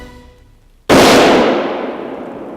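A single loud, sharp rifle shot fired at a deer during a hunt cracks out close by and rings into a long, fading echo.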